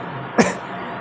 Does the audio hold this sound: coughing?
yes